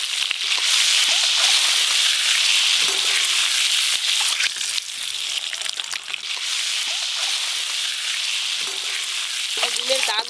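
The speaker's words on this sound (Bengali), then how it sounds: "টক ঝাল ডিম রান্নার জন্য এবার ডিমগুলো ভালো করে ভেজে নেব।" Eggs fry hard in hot mustard oil with turmeric for a village-style sour-spicy egg curry, giving a loud, dense, unbroken sizzle with small bubbling flutters near the end.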